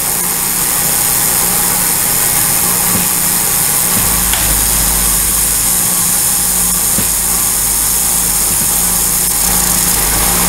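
A carbide fly cutter milling metal on a mill, producing a loud, continuous, steady machine drone with a deeper low hum that settles in partway through, with a few faint ticks.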